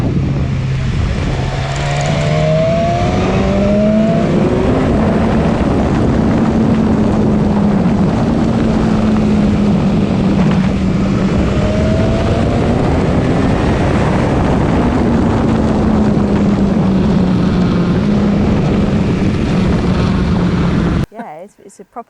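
A 2019 BMW S1000XR motorcycle engine drones steadily while being ridden, its pitch rising and falling with shifts, heavy wind rush over it and speech-like sounds faintly mixed in, ending abruptly.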